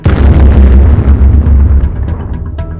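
A massive, close explosion booms with deep rumbling low end, then slowly rolls off with crackling debris and scattered pops.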